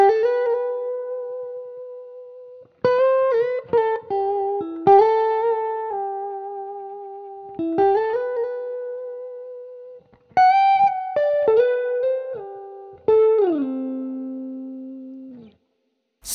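Electric guitar lead line played at full tempo through effects, bright sustained notes in short phrases separated by pauses, close and clear with no talking.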